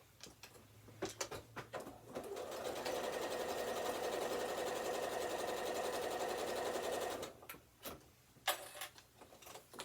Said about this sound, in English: So just give this a quick run through the machine.